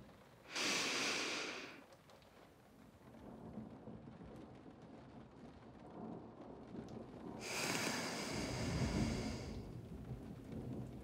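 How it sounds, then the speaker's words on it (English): Slow, calming breaths close to the microphone in a comfort roleplay setting in bed, with two long soft exhales separated by quieter breathing and a faint background hiss. "just focus on your breathing."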